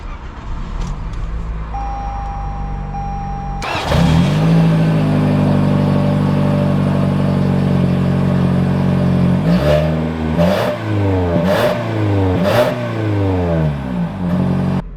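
A 2021 Toyota Corolla Nightshade sedan starts up and pulls out, its engine note rising and swelling repeatedly as it moves off, fairly close and steady with no talk.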